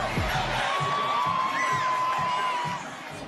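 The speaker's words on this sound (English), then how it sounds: "Look at the crowd." Arena crowd at an NBA basketball game between the Pelicans and Rockets in Birmingham, a dense, sustained roar of cheering and whooping with a few whistles riding above it, easing off near the end.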